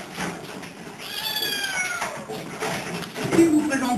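A young cat meows in its cage at an animal shelter, with several drawn-out cries heard close by over someone talking in French.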